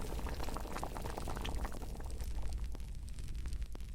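Water boils in a kettle over a fireplace in the escape game Princess Kaguya, a steady close bubbling roar with irregular popping bursts running throughout, unbroken by any voice.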